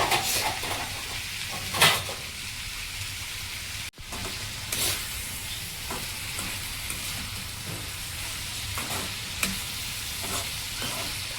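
Chopped cluster beans fry in a pan with a steady soft sizzle, broken by a few sharp clinks and scrapes of a stirring utensil and a lid knock, close and fairly quiet with no talking.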